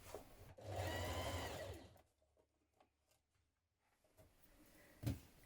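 Sewing machine stitching a jacket facing: a short, fast mechanical whirring burst of stitches close by, followed by quiet handling noises, light clicks and a soft thump.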